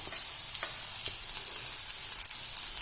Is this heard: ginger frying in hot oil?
yes